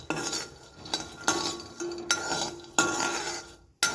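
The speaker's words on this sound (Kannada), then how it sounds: "ಈಗ ನಾವು ಶೇಂಗಾ ಹುರಿತಾಯಿದ್ದೀವಿ" Peanuts roasting in a pan for masala chitranna, stirred in repeated scraping, rattling strokes with light clinks of the utensil against metal, close and steady, without speech.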